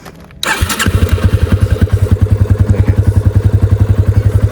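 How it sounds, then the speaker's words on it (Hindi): Yamaha FZ25 motorcycle engine cranks and fires up, settling straight into a loud, close, steady thumping exhaust note at a quick even idle, no talk. "मेरे प्यारे बाइक का एग्जॉस्ट नोट सुन के इस व्लॉग को यहाँ एंड करते हैं। तो चलिए अभी एग्जॉस्ट नोट सुनते हैं।"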